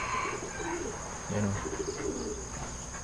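A bird gives a few soft low coos nearby against a steady high insect-like hum, with a brief spoken word at the start.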